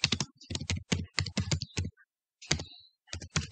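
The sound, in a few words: typing a school name on a computer keyboard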